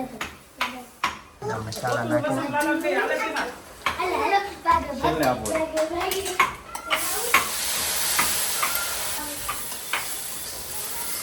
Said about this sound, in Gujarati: આ બાજુ વઘાર ચાલુ થઈ ગયો છે